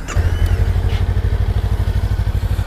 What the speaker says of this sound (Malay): kita cuba start tengok Honda Rebel 500 bunyi dia macam mana